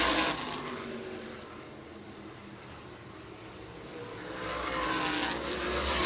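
USAC Silver Crown race cars on the Toledo Speedway oval, engines roaring loudly as a pack sweeps past, fading to a steady distant drone mid-lap before swelling again as the cars come back around near the end of the final laps.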